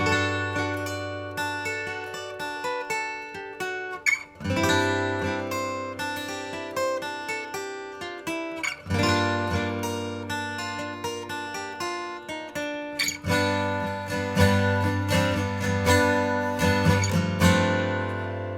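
Acoustic guitar in open G tuning strums ringing chords in slow succession, each struck chord decaying before the next, with small pinky embellishments between them.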